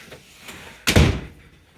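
An old farmhouse front door slams shut with a single loud, close thud that rings briefly and fades, with faint room noise before it.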